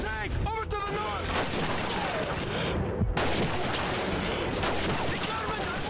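MG-42 machine gun fire in a Call of Duty 2 World War II battle, a steady loud wash of rattling automatic bursts and battlefield noise, with voices shouting throughout.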